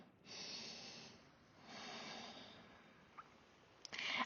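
Slow, deep breaths during a seated hamstring stretch: two long, soft, airy exhalations close to the mic, then a brief quiet spell and a sharper intake of breath at the end.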